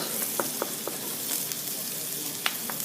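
Onions sautéing in a pan, a steady close sizzle with a few faint clicks of a utensil scattered through it, no talking.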